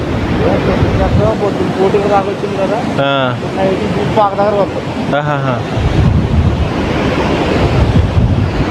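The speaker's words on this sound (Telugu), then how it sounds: "కెరటాలు సముద్ర కెరటాలు ఎక్కువగా ఉంటాయి బాగా ముందుకు వస్తాయన్నమాట" Sea waves roll in at Sankaraguptam beach on a full moon day: steady, loud surf wash with wind buffeting the microphone, while people's voices rise briefly over the roar.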